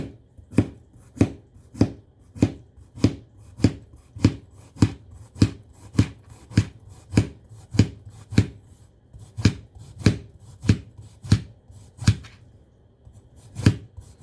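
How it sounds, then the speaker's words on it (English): Knife slicing a yellow vegetable for a relish platter, about twenty crisp, evenly spaced cuts knocking against a cutting board, close and clear with no talk. "Cut the tip off. And then slice it up too."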